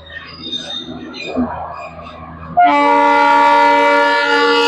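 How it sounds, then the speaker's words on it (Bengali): A toy train arriving in the hills at Rangtong sounds its horn in one loud, sustained blast that cuts in halfway through and holds steady to the end, after quieter ambient murmur and faint voices. "এবারে টয় ট্রেনটা আসছে।"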